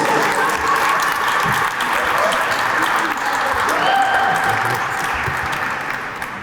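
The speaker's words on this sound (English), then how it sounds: "Let's please give a big round of applause to Joel Rodriguez Velez." A gala audience gives a full round of applause, a thick, sustained clatter of many hands that stays loud throughout and eases slightly at the close, with faint voices mixed underneath.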